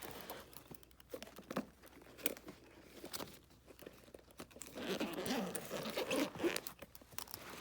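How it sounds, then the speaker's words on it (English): Zipper on the top flap of a carrying case being unzipped along both sides, a series of close, quiet rasping pulls with crinkly fabric rustles in between. "You would lift up the flap and unzip"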